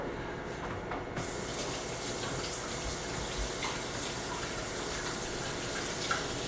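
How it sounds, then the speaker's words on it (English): Hands are washed under a running kitchen tap, a steady hissing splash of water that starts just after the first second and continues evenly throughout. "I'm also gonna wash my hands."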